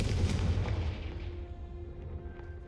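The Confringo spell in a video game goes off as a deep, booming blast that rolls away and fades over a couple of seconds.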